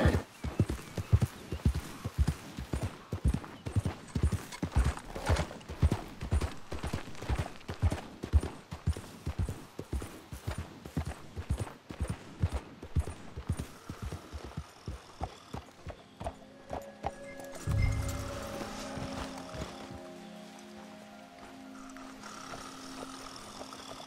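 Horse hooves clip-clop steadily in Red Dead Redemption 2, a fast regular gait for about seventeen seconds before slowing and stopping, followed by a low rumble and quieter ambience.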